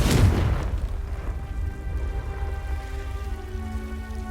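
A Confringo spell explosion in Hogwarts Legacy, a loud booming blast at the start that fades into a lingering rumble and crackling debris-like hiss.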